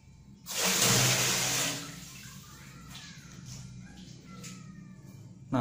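A manual water tap fills a bathtub with a loud gush of running water that then settles into a steady, quieter stream, with no talking over it.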